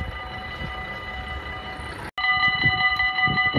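A train rolls past at Sint Joost, a steady loud rumble of wheels and carriages with a short break midway before the passing resumes, heard alone without talk.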